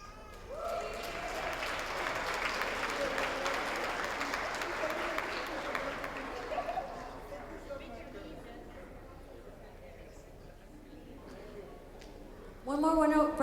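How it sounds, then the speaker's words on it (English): Sustained applause from an audience at a United High School graduation ceremony, broad and steady for several seconds before thinning out, with a brief voice breaking in near the end. "One more round of applause to all our United High School legends."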